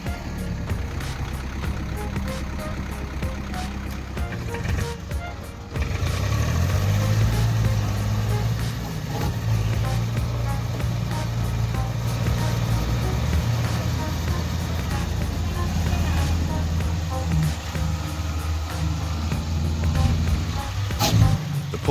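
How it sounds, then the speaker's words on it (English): A heavy rescue machine's diesel engine roars and strains nonstop while hauling a tractor stuck deep in field mud, a loud, low, continuous grinding that surges louder after a brief dip, with mechanical clanks and faint talk underneath. "The rescue machine thrashes like a wild beast, the cable stretched to its limit, and the engine roars nonstop"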